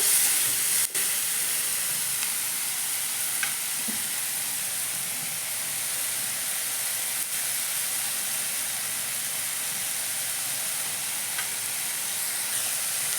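Ingredients fry in a pan with a steady, loud sizzle and hiss that runs unbroken throughout, with occasional faint stirring clicks and no talking.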